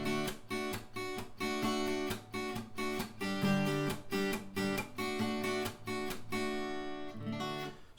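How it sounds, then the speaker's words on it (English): Electric guitar played with a muted rake strum, the pick dragging across choked strings in a steady rhythm of percussive raked strokes that land on ringing chords, close and fairly quiet, with no talking. "In this video we are looking at the muted rake technique with the right hand here"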